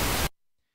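Synthesized white noise, a dense full-spectrum hiss that plays loud for about a quarter second and cuts off abruptly, leaving near silence and a faint trailing echo.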